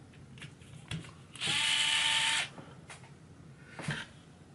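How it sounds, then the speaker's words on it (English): Electric screwdriver whirring in one steady burst of about a second, close and fairly loud, with quieter handling clicks and knocks around it while a 2WD dirt promod model is being assembled. "I'm going to use my electric screwdriver here"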